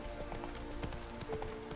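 Horse hooves clip-clopping at a slow walk in The Witcher 3: Wild Hunt, a quiet, irregular run of soft knocks under faint ambient game sound.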